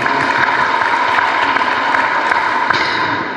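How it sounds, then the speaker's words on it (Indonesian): Audience applause for Pak Kabinda at a face-to-face gathering: dense, steady clapping from a crowd, holding loud throughout and easing slightly at the end, with no talk over it. "Kita berikan aplaus buat Pak Kabinda"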